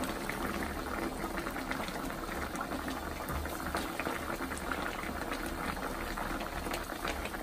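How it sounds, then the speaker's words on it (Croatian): A pot of water with meat and button mushrooms bubbles at a constant rolling boil, a dense close gurgle that carries on evenly with no speech. "I u vodu gdje se meso kuva,"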